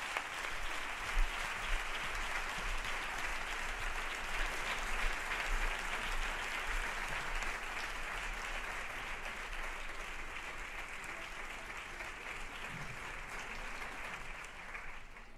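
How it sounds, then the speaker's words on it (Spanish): Sustained audience applause at an inaugural film festival gala welcoming the jury president, a dense, even wash of many hands that continues steadily for about fifteen seconds with no talk over it. "Un aplauso, por favor."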